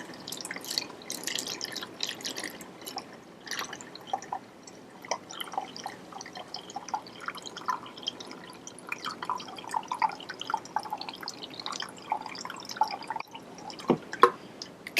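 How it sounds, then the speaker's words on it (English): Water runs from a pitcher into a balloon, producing a faint, irregular trickle of drips and gurgles that continues for the whole stretch, quiet and close, with no talking. "You can hear the water running into the balloon."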